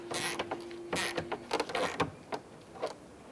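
Small plastic nuts being snugged down on the hood molding of a 2010-2016 Cadillac SRX, a close series of quick creaking, ratchet-like clicks and short rubs at an uneven rhythm.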